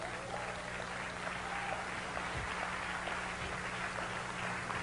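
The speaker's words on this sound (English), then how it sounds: "You should clap." Steady applause from a large audience at a sermon, a continuous wash of clapping held at an even level with no voices over it.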